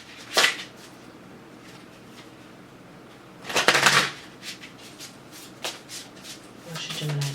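Tarot cards are shuffled in a few short bursts of crisp riffling, close up, separated by quiet pauses and soft handling sounds.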